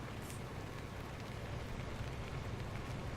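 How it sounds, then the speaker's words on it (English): Steady rain from the weather effect of a farming video game hisses as a faint, even wash of drops, continuous and alone with no voices. "here we go. Rain's coming."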